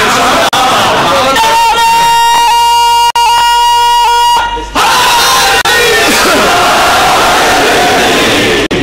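A Muharram majlis crowd loudly chanting religious slogans, a sustained collective shout with a strong tonal, chant-like stretch early on, then rolling crowd voices, close and loud.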